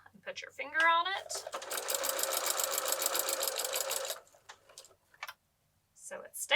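A sewing machine back-stitches a seam on an insulated reusable bag, giving a steady rapid mechanical run of about two seconds, close and fairly loud, with brief handling clicks before and after.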